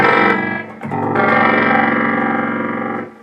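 Guitar chords played through an Electro Harmonix Stereo Pulsar tremolo pedal in intermodulation mode ring with a metallic, detuned, ring-modulator-like wobble, loud and sustained with a re-strum near the start, no talking.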